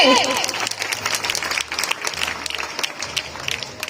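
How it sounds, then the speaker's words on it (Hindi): Applause from an audience welcoming a speaker at a Hindi public event, a dense sustained clatter of many hands that stays loud across the whole stretch, with crowd noise and a voice over a loudspeaker mixed in. "तालियों की गड़गड़ाहट कम नहीं होनी चाहिए। तालियों से स्वागत कीजिए।"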